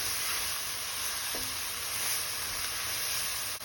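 Spinach and egg curry sizzling steadily in a pan, a constant frying hiss with one brief clink of a utensil partway through.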